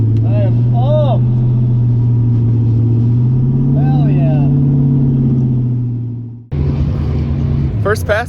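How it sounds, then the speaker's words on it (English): An SBE turbo Mustang drag car pulls hard down the track, its engine note steady and loud with rising pitch sweeps, then dropping away before a sharp burst of noise near the end; voices can be heard over it. "First pass was not bad at all."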